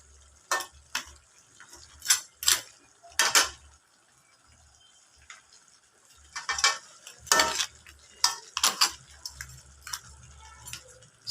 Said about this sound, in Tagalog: Lulutuin ko na lang ang gata.